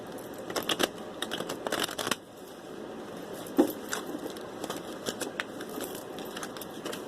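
Tarot cards being shuffled by hand in a quiet room, a run of soft, quick papery riffles and taps in uneven bursts, close and fairly faint, with no talking.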